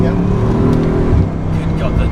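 A Bugatti Chiron hypercar, rated to 261 mph, pulls hard under acceleration with a loud, sustained engine drone and deep layered harmonics, heard from inside the car.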